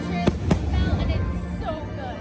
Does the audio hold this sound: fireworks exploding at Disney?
yes